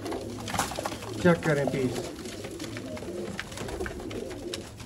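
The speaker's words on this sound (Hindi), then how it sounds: "आपको बाकी कबूतरों का शौक करवाते हैं, चलते फिरते दिखाएंगे आपको।" Pigeons, including fancy Royal Teddy and Ferozpuri breeds, cooing in a loft, soft repeated throaty calls near the microphone over a steady background hum, with someone speaking briefly.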